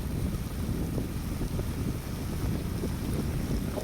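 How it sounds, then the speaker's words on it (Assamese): Strong wind buffets the microphone while riding pillion on a motorbike on a cold night. The steady, heavy rumbling roar fills the whole stretch with no voices. "বাইক ভাইটি চলাই আছে, মই পিছফালে বহি আছোঁ।"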